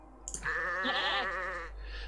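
A sheep in the video game Orwell's Animal Farm lets out a single wavering bleat, close and clear, lasting about a second after a couple of faint clicks.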